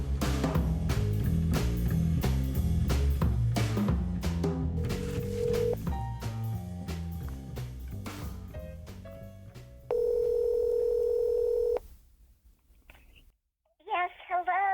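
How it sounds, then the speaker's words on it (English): After a stretch of music, a steady telephone dial tone sounds for about two seconds, then a rapid run of dialing beeps follows before a phone call. "we are going to talk to my mother, Babsie, on the phone"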